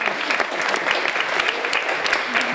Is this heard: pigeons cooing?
no